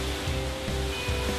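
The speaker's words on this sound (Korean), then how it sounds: "웅장하게 쏟아내는 폭포의 아름다운 물줄기" Volcanic-rock waterfall crashing down a cliff into an emerald pool, a steady broadband roar of pouring water that stays loud and even throughout with no voices.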